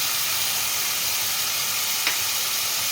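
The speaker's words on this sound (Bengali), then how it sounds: "তারপর দিচ্ছি জিরা গুঁড়ো মশলাগুলো একসঙ্গে কষে নেব" Ground spices such as turmeric, chili powder and cumin fry together in a pan for a pumpkin and prawn curry, a steady close sizzle with one faint brief tap, no talking.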